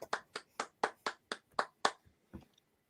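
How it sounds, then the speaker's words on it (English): A few people clap in a small online workshop group, about ten sharp, evenly spaced claps that thin out at the end, faint and sparse rather than a full applause. "Round of applause."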